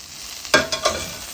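Garden vegetables stir-frying in a pan give a quick close sizzle with three sharp bursts as they are tossed, then fading.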